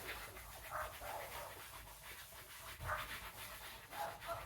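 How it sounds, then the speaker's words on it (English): Dogs pant in quick, uneven breaths close by, a steady hoarse huffing with a few louder gusts and no talking over it. "Oh, sorry about the dogs."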